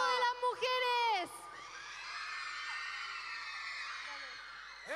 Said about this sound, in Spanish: El grito de las mujeres.